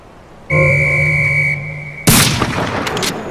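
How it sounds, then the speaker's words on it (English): A guard in the video game Velvet Assassin blows a loud whistle in one long, steady blast of about a second and a half, then a sharp burst of gunfire follows. "the response would be to blow a whistle when she points a rifle at you"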